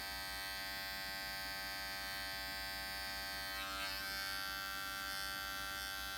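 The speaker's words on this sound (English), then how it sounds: "The clipper's at a 45-degree angle." Electric hair clippers run close by during a men's side-part haircut, held at an angle while beveling the edges. The buzz is steady and continuous throughout, with a slight change in tone about midway.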